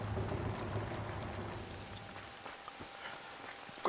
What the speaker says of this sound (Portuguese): Essa chuva, né, cara, atrapalha muito o som do jogo